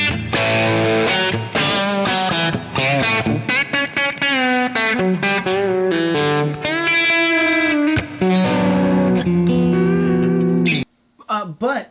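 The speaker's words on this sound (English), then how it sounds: "I just like to roll the volume up if I want more distortion." Distorted electric guitar played through a 40-watt amp with the volume rolled up: steady, loud sustained chords and notes with gritty overdrive, ringing for about eleven seconds before a brief pause and a short final strum.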